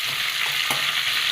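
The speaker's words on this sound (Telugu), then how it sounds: "కొన్ని మెంతులు, కొంచెం జీలకర్ర వేసుకోవాలి. కొంచెం బాగా ఫ్రై అవ్వాలి." Fenugreek seeds and cumin fry in a pan with an even, dense, loud sizzling hiss up close, plus one brief tap of a stirring spoon midway and no voices.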